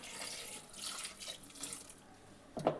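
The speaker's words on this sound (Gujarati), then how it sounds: "હવે તેમાં આપણે 2 ગ્લાસ જેટલું પાણી નાખી દેશું" About two glasses of water splash and pour into a metal pressure cooker over corn cobs for a few seconds, a steady running trickle ending with a louder clank near the end.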